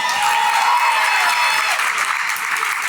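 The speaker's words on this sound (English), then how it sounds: "I need a bigger applause for that." A large gala audience of several hundred bursts into loud, dense applause that sustains steadily for three seconds, thick and close with a few cheers mixed in.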